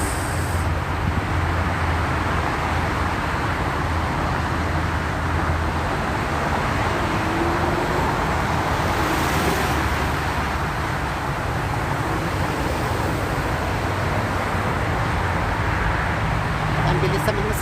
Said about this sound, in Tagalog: Ang bilis sa mga sasakyan.